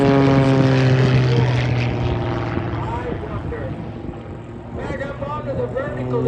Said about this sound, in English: The vertical there, Jerry Wells really showing the aerobatic prowess of this airplane